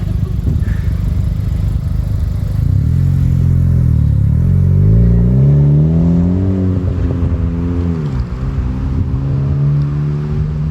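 Engine braking from a 2020 Honda Civic Si with a MAPerformance street exhaust, held in second gear: a loud, close, steady exhaust drone that rises and falls in pitch as the car slows.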